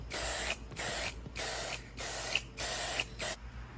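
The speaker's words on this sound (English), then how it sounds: "I still got some leftover paint from when I painted the wheels the first time, so I'm just gonna throw on 2 coats of this real quick" Leftover paint sprayed onto Chevrolet Silverado truck wheels in a row of about six steady hissing bursts, each roughly half a second long, close and fairly loud with brief pauses between them.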